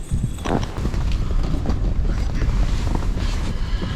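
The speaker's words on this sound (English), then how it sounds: "That wind is not going to calm down for us at all. It is still roaring, still kicking our tail" Strong wind roars steadily across a frozen ice camp in extreme cold, buffeting the microphone with a constant low rumble and gusty bursts throughout.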